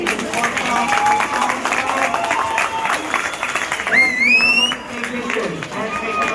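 Loud, sustained crowd applause at a 6th grade promotion, a thick wash of clapping continuing throughout, with a shrill whistle or cheer cutting through midway and people talking underneath.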